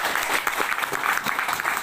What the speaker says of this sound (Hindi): ये सभी के लिए जोरदार ताली होनी चाहिए।